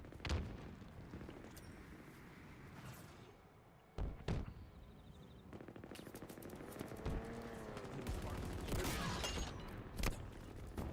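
Machine gun fire in a shooter video game: several rapid bursts and single sharp shots, loud and close, separated by short lulls with mechanical clanks and reload-like noises, no speech.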